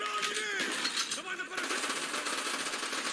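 Video game gunfire in Call of Duty Black Ops, a dense, continuous rattle of automatic shots and clatter that runs throughout with game noise behind it.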